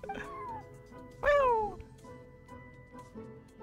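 A cat meows in the video game Genshin Impact, one loud, drawn-out, falling meow near the middle, with a fainter mew just before it over a quiet game soundtrack.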